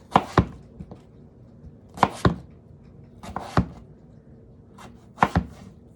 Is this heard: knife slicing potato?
yes